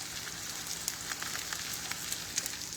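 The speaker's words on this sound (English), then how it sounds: "The whites are starting to cook." Egg whites frying in a pan, giving a faint, steady crackling sizzle with small scattered pops throughout; no voices.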